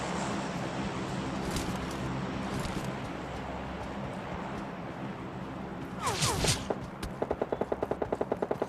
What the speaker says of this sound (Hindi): उधर से गन शॉट्स की आवाज़ आ रही थी